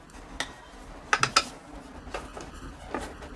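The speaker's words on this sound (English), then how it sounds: "Now we get our screwdriver and we tighten." A screwdriver tightens a Lockwood 001 conversion sleeve into a deadbolt lock, making close, faint metallic clicks and scrapes, with a quick cluster of sharper ticks in the middle and no talking.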